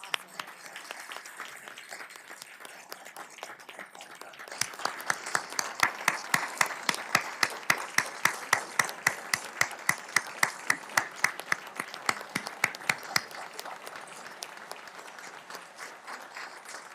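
City council audience claps for General Michael E. Langley of the United States Marine Corps: a dense applause that swells into a run of loud, sharp rhythmic claps, then thins and fades out.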